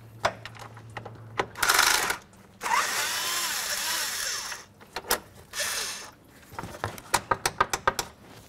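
A ratchet or power tool loosens the fan shroud bolts on a Nissan Titan, with bursts of whirring mechanism and a run of sharp clicking ratchet taps between quiet pauses, close and alone.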